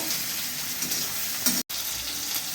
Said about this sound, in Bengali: টমাটোটা গলা পর্যন্ত একটু মারতে থাকবো